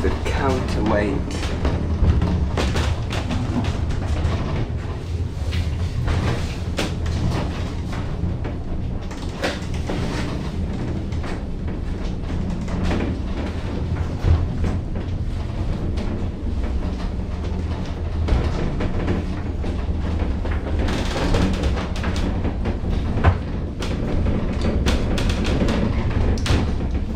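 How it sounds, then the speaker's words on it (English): Southend funicular railway car running on narrow gauge rails, hauled by a rope from a motor at the top, giving a continuous rumbling, clattering roll with occasional knocks as someone talks over it. "This is a funicular system where you have two rails"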